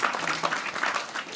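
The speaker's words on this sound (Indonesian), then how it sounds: "Semua tepuk tangan ini apa?" Applause from an audience at an Islamic talk on keeping love alive after marriage, a steady patter of clapping throughout, moderately loud with faint voices mixed in.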